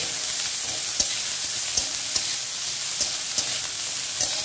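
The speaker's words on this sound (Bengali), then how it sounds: "একটু নুন আর হলুদ দিয়ে বেগুনটাকে ভেজে নেব" Eggplant fries in a little oil with salt and turmeric, a steady close sizzle broken by light, regular taps and scrapes of a spatula every second or so.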